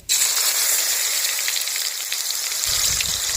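Chopped tomatoes tipped into hot oil with cumin burst into a sudden, loud, even sizzle that crackles like heavy rain, and a low rumble joins near the end, no speech.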